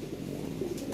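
Lahori pigeons coo softly in a loft where many birds are kept, low murmuring calls running steadily throughout with a faint brighter rustle near the end.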